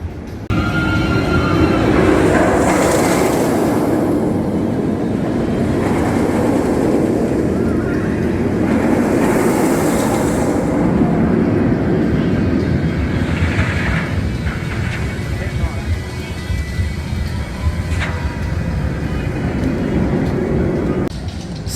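Medusa, a steel roller coaster at Six Flags Great Adventure, roars loudly along its track throughout the ride, with constant rumbling, whooshing wind rush and faint distant screams rising and falling over the run.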